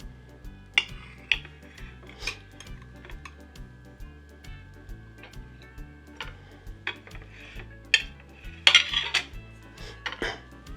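A knife slices a piece of Appalachian upside-down flip cake, giving scattered light clicks and taps of the blade against a plate over a quiet background.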